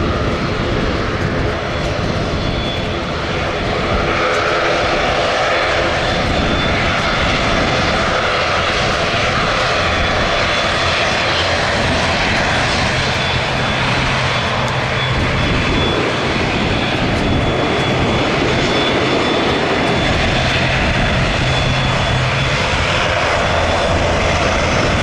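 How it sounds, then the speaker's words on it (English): Jet engine roar from a HondaJet business jet with a distinctive paint job, heard at an airport: a loud, steady broadband rush holding for about twenty-five seconds with no voices over it. "it's Honda Jet time"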